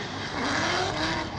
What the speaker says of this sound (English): Wow, this car sounds beastly when it comes out. It's a BMW E92.